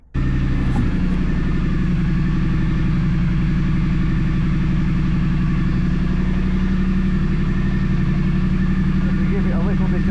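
A Triumph motorcycle fitted with a TEC exhaust starts and then runs at a steady, deep, throbbing idle, loud and close, holding even for the whole stretch.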